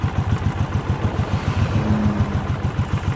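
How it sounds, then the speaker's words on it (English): A Honda CX500 motorcycle idles close by with a steady, rapid low throb, and a loose fender rattles along with it in a fast clatter that continues throughout. "there's a rattling going on"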